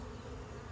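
Honey bees swarm around a nuc hanging on a tree, a dense continuous buzz, close and steady throughout the short moment.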